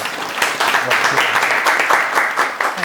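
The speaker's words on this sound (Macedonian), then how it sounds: "Аплауз." An audience applauds at a live radio broadcast, with a dense, steady burst of clapping that holds at an even loudness through the whole stretch.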